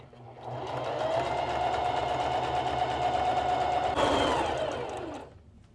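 A sewing machine runs steadily for several seconds stitching a dress seam, a close continuous whirring hum that shifts pitch briefly as it reverses to back stitch, then winds down.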